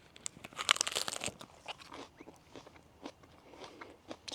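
Crisp crunching of someone biting into fresh lettuce picked from a winter garden: a cluster of sharp, close bites early on, followed by softer, scattered chewing crunches.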